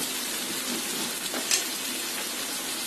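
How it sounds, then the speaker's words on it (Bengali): Chicken sautéing in spices in a pan, a dense continuous sizzle with a brief sharper crackle near the middle, close and steady with no voices. "এখন চিকেনটাকে একটু এই মশলার মধ্যে কষিয়ে নেব"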